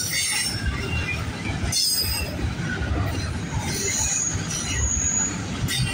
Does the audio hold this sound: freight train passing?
yes